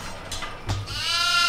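Goats bleat inside a cage in the horror video game Devour, a short nearby cry followed by a longer wavering bleat, with no talk over it.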